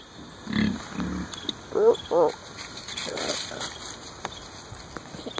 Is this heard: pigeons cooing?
no